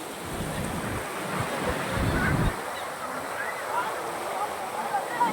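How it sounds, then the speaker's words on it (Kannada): Large ocean waves rush and break nearby at RK Beach, Visakhapatnam, a loud surge in the first half fading into softer wash, with wind noise on the microphone. "ನೋಡಿ ಇವಾಗ ದೊಡ್ಡ ಅಲೆ ಬರ್ತಾ ಇದೆ"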